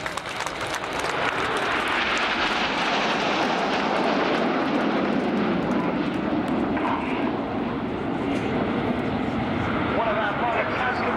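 An Avro Lancaster bomber flies past at a Red Arrows air display, its engines a broad, sustained roar that swells and slowly fades, loud and steady over the whole span with crowd noise in the background.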